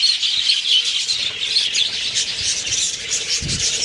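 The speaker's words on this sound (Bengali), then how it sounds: "ওইদিকে হচ্ছে কিছু কিছু বদ্রি পাখি রয়েছে আলাদা আলাদা করা" A colony of budgerigars kept in clay pots chirps and chatters in a dense, continuous high twittering that stays steady and fairly loud throughout, with a brief low thump near the end.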